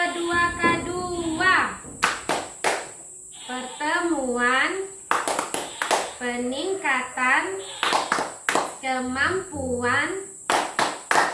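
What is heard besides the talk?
group clapping rhythm for the P2K2 chant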